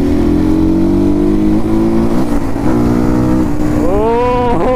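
A Crossfire RM 250 motorcycle engine drones at a steady idle, close and loud, then revs up sharply with rising and falling pitch toward the end.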